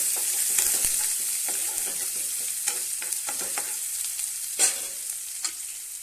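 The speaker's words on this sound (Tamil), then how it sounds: "இதையும் இதில் சேர்த்து அப்படியே வதக்கி விட்டுடலாம்" Chopped onion and garlic sautéing in a pan for a lady's finger (okra) fry, giving a steady close sizzle broken by irregular spatula stirs and scrapes, with no talking.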